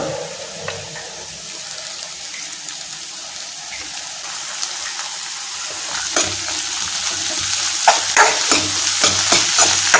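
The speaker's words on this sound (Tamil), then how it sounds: "சேர்த்துட்டு நல்லா வதக்கி விடுங்க" Banana flower being sautéed and stirred in a pan, a steady close sizzle with scraping utensil strokes that grow louder and more frequent toward the end.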